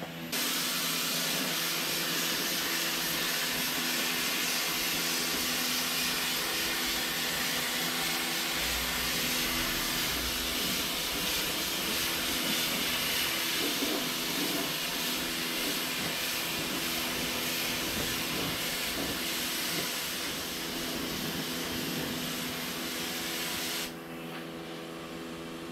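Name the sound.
spray painting a 1983 Volvo 240 engine bay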